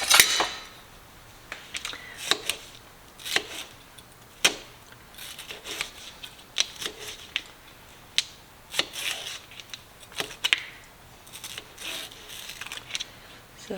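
A knife cutting a small pepper into little pieces on a chopping board, with sharp irregular chops and taps close by, spaced unevenly with quiet gaps between strokes.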